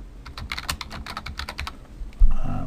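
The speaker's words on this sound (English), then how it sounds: "Just type in some comment here." Quick bursts of keystrokes on a computer keyboard as a comment is typed into a web page form, close and fairly soft, ending in one firmer key press with a short ringing tail.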